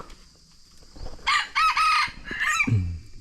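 Rooster crows and chicken clucks ring out in a short burst: a pair of loud, close crowing calls followed by a lower clucking note, with faint background noise before.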